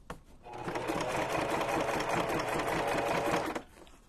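A sewing machine runs in one steady burst of rapid stitching, close and loud, while it sews a junk journal cover, stopping abruptly after about three seconds.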